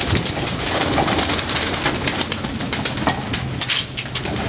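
Soft pigeon cooing over a steady, noisy background, with occasional rustles and faint flutters; no voices.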